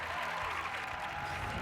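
Studio audience applause on a French TV show after a burlesque dog act, a dense, steady wash of clapping held at an even level throughout the short stretch.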